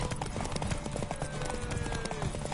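Steady clip-clopping of horse hooves in Deus Ex: Mankind Divided, dense and continuous, with faint voices and background sound underneath.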